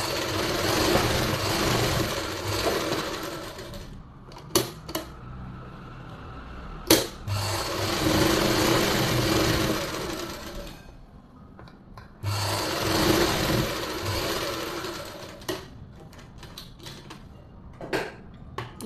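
Sewing machine stitching a palazzo pants seam, close whirring runs in three bursts separated by short pauses and sharp clicks from handling the fabric.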